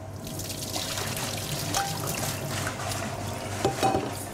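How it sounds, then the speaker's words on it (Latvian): Water poured through a sieve to drain thinly sliced potatoes briefly blanched in boiling water, a steady close trickle and splash running throughout with a couple of brighter splashes near the end. "Pēc tam lejam caur sietu."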